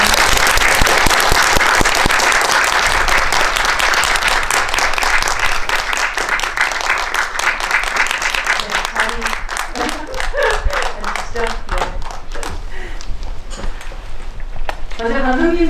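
A film-screening audience at a special guest talk applauds loudly and steadily, dense clapping filling the room before thinning toward the end as a voice starts speaking.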